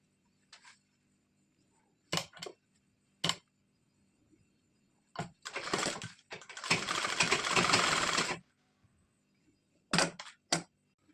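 A sewing machine stitching a blouse seam for a four-tuck blouse runs in short separate bursts, then in one longer run of about three seconds, close and fairly quiet, with silence between the runs.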